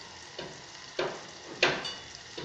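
Fresh pigeon peas with salt and turmeric cooking in a pan with tomato, a quiet sizzle broken by three sharp stirring scrapes.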